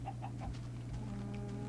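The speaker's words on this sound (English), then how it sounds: "Chicken, you're not a cow." A chicken in the Minecraft-style game Crafting to the End gives a few short clucks in a quick run, then falls quiet over a steady low background hum.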